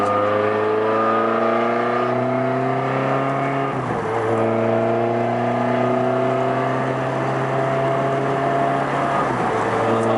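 A Ferrari 360 Spider engine pulls hard while driving, a loud, close, continuous rising howl that drops briefly at two gear shifts before climbing again.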